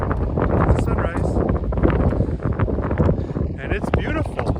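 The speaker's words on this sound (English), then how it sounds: "it's windy out here" Wind buffets a microphone aboard a sailboat at anchor in Potagannissing Bay at sunrise, a loud rumbling roar throughout, with a person talking over it.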